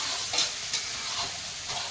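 Hot oil and onions sizzle in a wok for fish curry, a steady, close frying hiss with a few soft stirring bumps and no talk.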